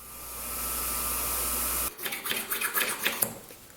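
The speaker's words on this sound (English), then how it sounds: "Just kiss it ever so gently against the top part of the grinding wheel." A screw tip, being shaped into a micro chisel, meets a grinding wheel: a steady high whine from the spinning wheel cuts off, then a series of uneven scraping, hissing contact bursts follows, close and moderately loud, with no talking.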